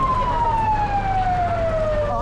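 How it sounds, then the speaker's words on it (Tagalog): Fire truck siren wailing with a steady descending tone, loud and close, sounding continuously throughout. "na may mga fire truck po"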